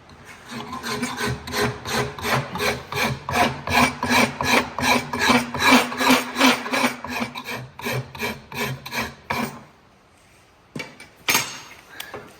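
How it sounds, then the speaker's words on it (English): A hand rasp files a wooden axe handle to fit the head, giving a steady run of rhythmic rasping strokes for about ten seconds, close and loud, then a pause and a couple of isolated scrapes. "then I'll fine tune it with the rasp"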